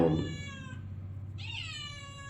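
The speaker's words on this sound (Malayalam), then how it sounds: "ഒരു പൂച്ച വന്ന് വിളിച്ചുകൊണ്ടിരിക്കുന്നു മേ മേ മേ" Two close, clear cat meows, the first tapering off, the second rising and higher-pitched after a short pause, over a low hum.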